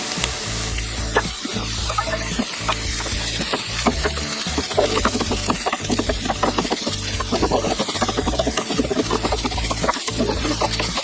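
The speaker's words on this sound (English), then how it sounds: "let that cook for a little bit, let it sizzle away" Steady crackling sizzle of bacon frying in a hot pan, continuous and close, with occasional clinks and scraping of utensils.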